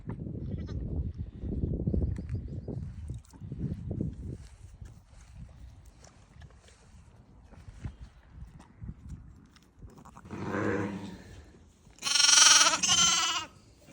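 Ewe and her two newborn lambs bleating during lambing, with low grunting and shuffling early on, then a couple of loud, close bleats near the end.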